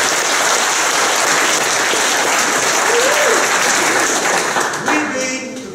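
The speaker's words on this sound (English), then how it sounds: "Give yourselves a hand." A record lecture-hall crowd at a Texas history talk breaks into sustained, loud applause that fills the whole stretch, tapering slightly at the end.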